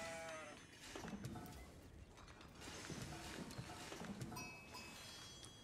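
Several sheep bleat repeatedly in Age of Empires IV over a busy backdrop of game clatter and mechanical sounds, the calls overlapping at moderate volume.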